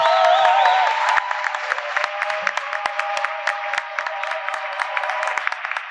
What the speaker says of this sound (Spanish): ya sé que la van a aplaudir, como siempre